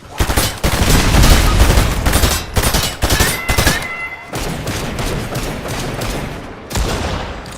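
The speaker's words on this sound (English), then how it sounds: "Wow, that turret really rips." An automated turret fires in Fortnite, hammering out a rapid, dense, continuous stream of loud shots that goes on for several seconds with only brief dips, up close and with no talking.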